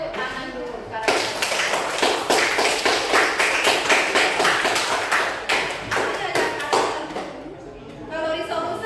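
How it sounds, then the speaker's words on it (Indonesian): A class of students clapping hands together in a teaching lesson, a steady, loud, rhythmic patter of many claps lasting most of the clip, with voices briefly before and after. "Tepuk tangan dulu karakter."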